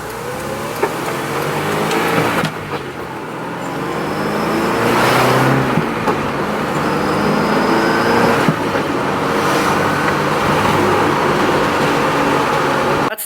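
A Honda S2000 with a 4.77 final drive gear is driven hard, its engine revving up and dropping back through several gear shifts, loud and continuous from inside the car, with no one talking.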